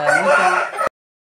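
Rooster crowing loudly and close, a single sustained cock-a-doodle-doo lasting almost a second before cutting off abruptly into silence.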